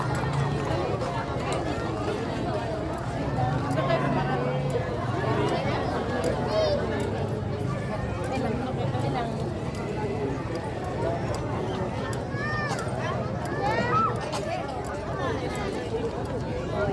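Horses' hooves clip-clop steadily on pavement in a fiesta horse parade in Plaridel, a continuous patter under crowd babble and close talking.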